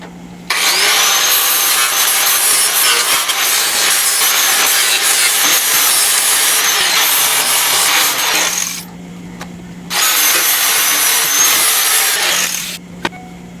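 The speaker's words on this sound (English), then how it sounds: "So I ground that up pretty well." Grinding metal on a Jeep body: a loud, harsh, continuous grinder roar for about eight seconds, a short pause, then a second long burst, all close and without talk.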